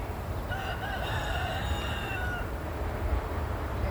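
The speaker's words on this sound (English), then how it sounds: "buddy Rooster next door. He's saying hello." A rooster crows once at a distance, faint over a steady rumble of background noise.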